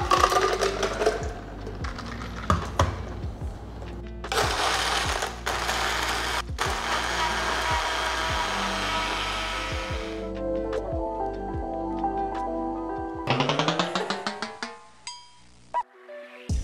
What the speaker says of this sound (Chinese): 我们用搅拌机把它打碎。